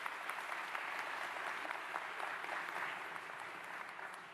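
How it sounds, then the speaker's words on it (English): Audience applause at a mayor's town hall meeting, a steady moderate wash of many hands clapping that holds evenly and tapers slightly toward the end, with no talking. "Let's give them a round of applause for that."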